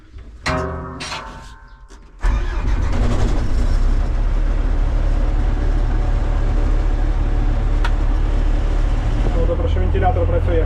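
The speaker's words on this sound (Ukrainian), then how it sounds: "заводимо комбайна. Комбайн в принципі заводиться з полутика" A John Deere 1032 combine harvester engine turns over and catches after a couple of seconds, then settles into a loud, steady, heavy low rumble running close by without pause.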